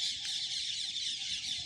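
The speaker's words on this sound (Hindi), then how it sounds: "रिकॉर्ड करके आपको सुना रहा हूँ पक्षियों की कलरव चहचहाट" Dense, continuous chatter and squawking from a large flock of birds, mostly parrots, heard from a rooftop in the afternoon, with many overlapping calls and no pauses.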